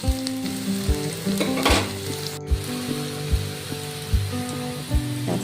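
Carrots sautéing in a hot pan with spices, salt and ground peanut and niger seed powder, a loud continuous sizzle and crackle with regular soft stirring knocks throughout.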